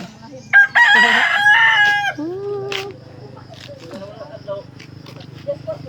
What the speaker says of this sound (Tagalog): Bye, manok!